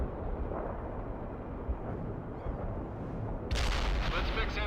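Heavy artillery in World in Conflict rumbles as a low continuous roar under faint battlefield noise, then a sudden loud burst of fire swells in near the end.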